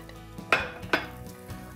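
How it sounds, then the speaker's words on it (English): Pimento cheese cornbread batter hits a hot skillet with a steady low sizzle, marked by two sharp scraping clinks of a utensil close by and no speech. "I'm gonna pour our batter right in here. You can hear and see that sizzle."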